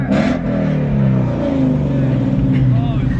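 A modified 5.0 car engine idles loudly and burbles with a rough low rumble, its pitch sliding downward after a brief throttle blip at the start, close and dominant.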